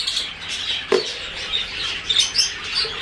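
Pet birds of a white cap mutation chirp and tweet in quick, high, scattered notes close by, with faint rustling and flutter in a cage and no talking.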